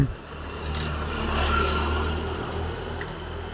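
A two-wheeler engine catches after a kick-start and runs with a low, moderately loud rev that swells and eases, with faint background noise and no clear talk.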